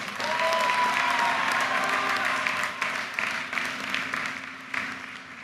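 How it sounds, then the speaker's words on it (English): Sustained applause from a large crowd at a university commencement ceremony, steady and dense throughout, with a faint held tone and scattered cheers beneath the clapping. "Give them a round of applause."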